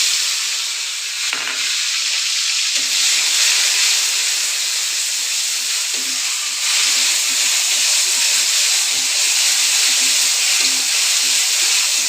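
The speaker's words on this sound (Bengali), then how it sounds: "মশলাটা সুন্দর করে তেলের মধ্যে দিয়ে একটু ভেজে নেব" Ground spice paste with bay leaves and garam masala frying in hot oil for a cow trotter curry gives a loud, steady sizzle and hiss that continues alone throughout.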